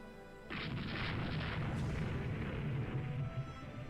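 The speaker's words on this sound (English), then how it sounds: "Okay, we hit the battle cruiser." Naval shells striking a battle cruiser in Rule The Waves 2 sound as a heavy booming impact. A sustained rumbling, crackling roar of explosions and fire follows and runs for several seconds.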